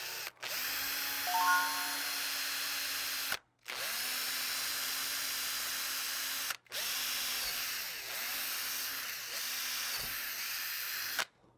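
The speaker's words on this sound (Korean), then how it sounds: "드릴을 이용해서 구멍을 하나 내줄 거예요." Power drill boring holes into a wooden rocking horse carving, three separate runs of steady whirring, each starting and stopping sharply with brief silent gaps between them, heard close and alone.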